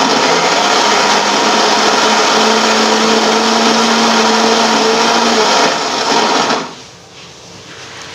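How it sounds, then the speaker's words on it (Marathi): A kitchen mixer grinder whirs loudly and steadily as it grinds coconut into a fine paste, its motor drone running for several seconds before cutting off abruptly into near quiet. "सर्वात आधी खोबरं वाटायचं, कारण ते एकदम बारीक वाटलं जाईल."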